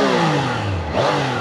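Triumph Daytona 660 three-cylinder motorcycle with stock exhaust, engine loud and close, with a short rev that drops and climbs again.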